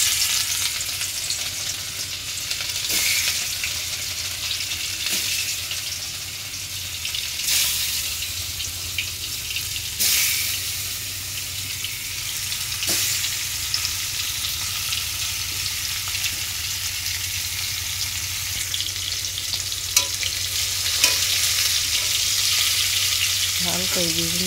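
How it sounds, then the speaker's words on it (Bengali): Fish sizzles steadily as it fries in a pan, a continuous hiss with occasional louder spits and pops, close and without talk. "মাছ ভাজি করবো। মাছটি দিয়ে দিচ্ছি।"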